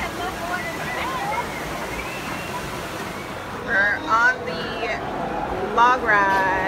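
Steady broadband water rush from the log ride flume at Knott's Berry Farm at night, continuous and fairly loud, with voices talking over it and a few brief bright squeaks near the end.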